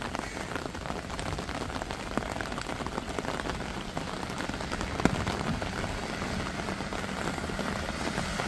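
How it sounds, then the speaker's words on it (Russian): Heavy rain pours steadily on a city street in Sortavala, Karelia, a dense continuous hiss of drops on the surface that stays loud and unbroken throughout, with no voices. "Дождик не на шутку разгулялся"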